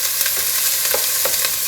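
Onions and peppers fry over medium heat with a loud, dense sizzle near at hand, broken by light clicks of stirring in the pan.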